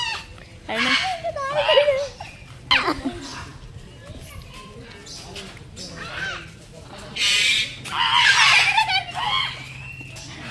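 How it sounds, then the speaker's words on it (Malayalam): At Mysuru zoo, parrots give loud, shrill squawks in repeated bursts, close by, while a person talks between the calls. "അതെല്ലാം ഇവരുണ്ടാക്കുന്ന സൗണ്ടാണ് ഗൈസ് ഇത് വെറൈറ്റി തത്തയാണ്"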